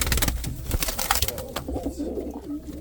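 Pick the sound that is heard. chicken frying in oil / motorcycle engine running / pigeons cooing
pigeons cooing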